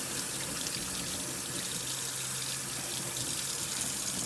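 Water from a tap runs steadily into a sink as soap is rinsed out of a makeup brush, a constant close splashing rush with no talk.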